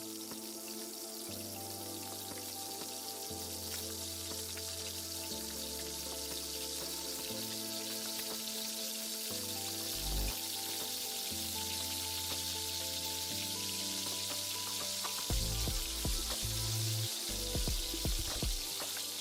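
Lobster tails and red snapper fry in hot oil at a stove, giving a continuous, even sizzle and bubbling hiss that stays close and steady, with some background tones and clatter near the end.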